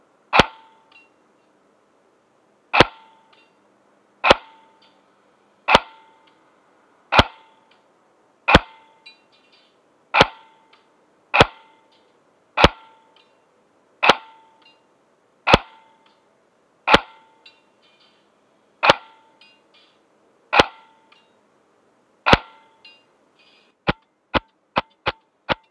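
A Double Eagle Honey Badger M904G airsoft gun fires about sixteen evenly spaced single shots, each a sharp snapping crack with a brief ringing tail, then ends with a quick burst of four.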